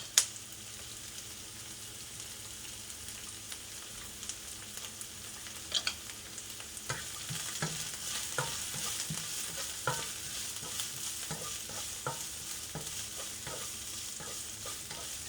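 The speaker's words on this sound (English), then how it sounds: "Stir the ginger and onion for a few minutes." Ginger and onion being stirred as they fry in a pan, a steady sizzle under repeated scraping strokes of a utensil that grow busier partway through, close and alone with no talking.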